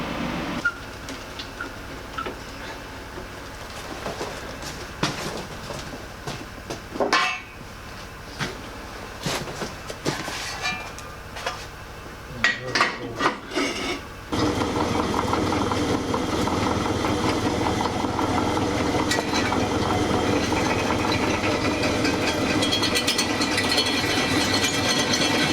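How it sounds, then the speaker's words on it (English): A pillar drill bores through a Land Rover Series 3 part, a steady mechanical whir with rattling clicks and knocks, then a louder, denser grinding drone for the last ten seconds, near and continuous. "now I've got to get the whole thing under the pillar drill."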